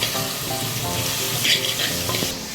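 A halved green chilli fries in a hot pan, giving a steady, close crackling sizzle with a few brief clinks and scrapes. No one speaks.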